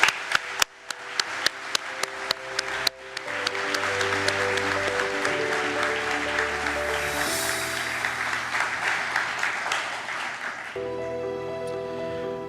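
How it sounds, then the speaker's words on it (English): An audience breaks into applause at the opening ceremony of the International Hydrographic Organization assembly, building from scattered claps into sustained clapping that fills the hall for several seconds. "Please join me in one last round of applause"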